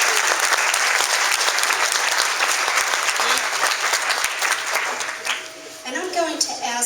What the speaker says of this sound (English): please give a round of applause for Aflac